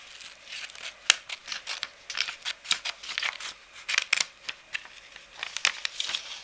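Scissors cut through material during a DIY notebook decoration craft, giving a series of close, crisp snips and slicing rasps in an uneven rhythm.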